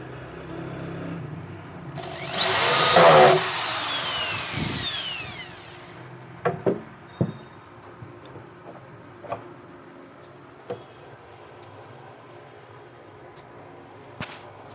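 A power drill drives a screw into a metal L-hinge, a brief whirring burst early on, followed by a series of scattered light clicks and taps as the hinge is handled, quiet between sounds.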